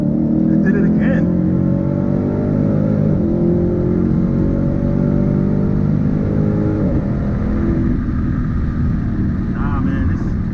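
A 2020 Shelby GT500 launching weakly at the drag strip, a loud, close engine roar rising in pitch through gear changes, with voices talking over it.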